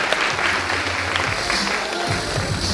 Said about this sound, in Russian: Давайте поддержим нашу жюри громкими аплодисментами